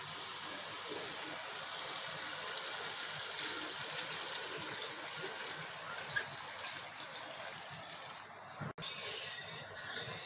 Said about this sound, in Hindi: अब गरम पानी जो है इसमें ऐड करेंगे हम लोग।